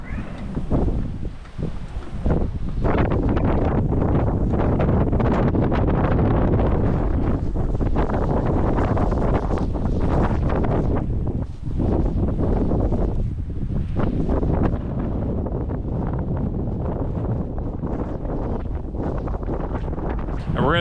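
Strong wind buffets the microphone in loud, gusty blasts that rumble continuously with brief lulls.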